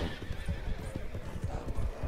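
A horse in the video game Red Dead Redemption whinnies over a rapid, uneven clatter of hooves, close and moderately loud, with no talking.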